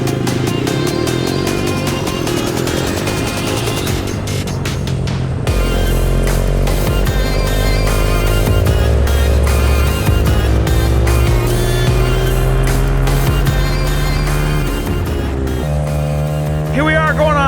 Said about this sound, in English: Here we are going on a lap with the XR100.